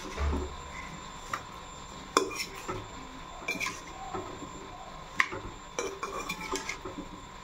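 Indian olive pickle being stirred with spices in a pan, with a metal spoon scraping and clinking against the pan in irregular knocks over a faint steady hum.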